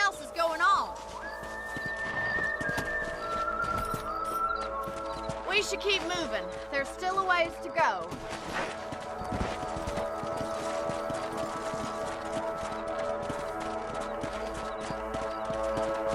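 Horses trot along a trail in Red Dead Redemption on PS3, with rhythmic hoof clip-clops running under a voice and in-game background sounds throughout.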